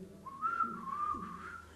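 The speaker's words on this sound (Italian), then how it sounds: "sentire il fischio." A single shrill whistle rings out alone for almost two seconds, its pitch sliding up at the start and then wavering and dipping before it settles into a steady, fairly loud tone.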